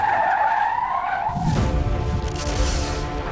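A remote control Rowdy Energy Toyota race car skids around a small indoor course, tires squealing in a sharp rising whine before a loud scrabbling skid with motor buzz takes over.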